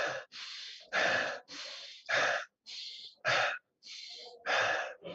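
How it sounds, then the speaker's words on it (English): Rapid, forceful breaths in and out repeat in loud, evenly spaced bursts for chaotic breathing during Kundalini meditation, each gasp or exhale close and breathy with brief gaps between. "In the very beginning, you're experiencing chaotic breathing."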